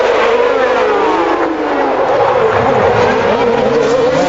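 Formula One cars race through Casino Square at the Monaco Grand Prix, a loud continuous engine roar with revving pitch changes close by, a McLaren among them.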